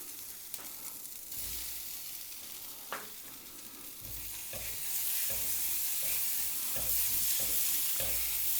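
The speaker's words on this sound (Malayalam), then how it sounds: "ഒരു മീഡിയം സൈസ് തക്കാളി കൂടി ചേർത്ത് ഒരു 2 മിനിറ്റ് നമുക്ക് ഇതിനെ വഴറ്റിയെടുക്കാം" Tomato for a Kerala-style chicken curry sautéing in a pan, a hissing sizzle that builds louder partway through, punctuated by a regular series of spoon scrapes and knocks against the pan, heard close with no voices.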